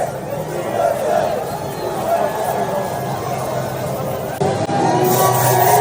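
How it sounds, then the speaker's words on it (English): Spectators at the Miami Grand Prix Formula 1 race make a continuous crowd roar of cheering and chatter. Voices stay close and loud, with a brief dip near the end. "Here's the crowd."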